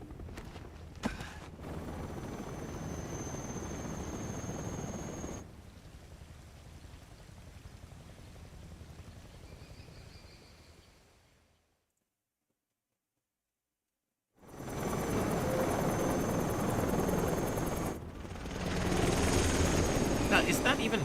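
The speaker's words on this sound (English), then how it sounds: "is that even possible to lift something like this with 4 helicopters without them all dying?" Helicopter rotors drone loudly and continuously in the video game Big Dum Delta, with several sharp cuts: the sound drops to total silence midway, then comes back just as loud.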